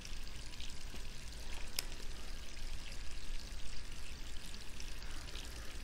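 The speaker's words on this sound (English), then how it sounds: "when she saw running water" Running water from a sink in Resident Evil 3 Remake: a steady, even rush of water pouring, moderately quiet and constant throughout, with no voices.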